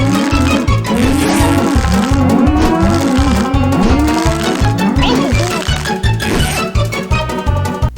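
Cartoon cows in the South Park PC game moo over and over in quick overlapping calls, loud and constant above a thumping, rhythmic game soundtrack.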